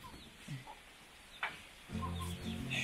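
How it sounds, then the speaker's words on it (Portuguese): Chickens cluck in short, soft bursts and then grow into a closer, steadier clucking chatter near a spot where people are eating cuscuz, with faint background hum. "tem que tomar conta aqui que as galinhas estão querendo cuscuz também"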